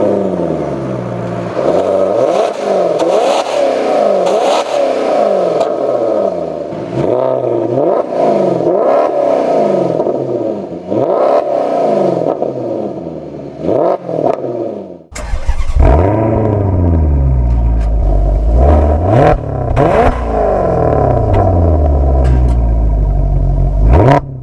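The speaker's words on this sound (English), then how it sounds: "the dual exhaust, which we'll get a rev here now that the car has warmed up" A warmed-up Maserati GranTurismo Sport's engine revs repeatedly through its dual exhaust, a loud close run of rising and falling blips followed by a deeper, harder surge after a short break.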